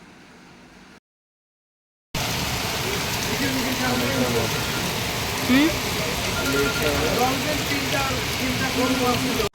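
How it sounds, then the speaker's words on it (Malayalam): Rain falling in Mafushi, Maldives: a muffled opening, a brief silent gap, then a dense, steady downpour drumming on surfaces, fairly loud and continuous, with faint voices underneath. "ഞങ്ങൾ അവിടെ എത്തിയതും മഴയൊക്കെ ഉണ്ടായിരുന്നു കേട്ടോ."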